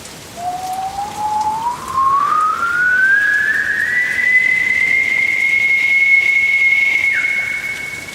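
A long whistle begins low and rises steadily to a held high note, ringing loud and clear over a constant hiss of wind-driven rain in a storm.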